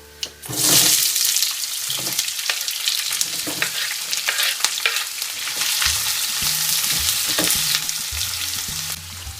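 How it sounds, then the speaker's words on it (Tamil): Sliced onions sautéing in oil with fried chillies in a pan for mutton uppu kari varuval, a steady loud sizzle with scraping stirs throughout, close and with no talking. "வெங்காயம் நல்லா வதங்கட்டும்."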